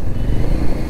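A vehicle speeds along a road at night, its engine note a low, steady rumble close by through the whole short stretch.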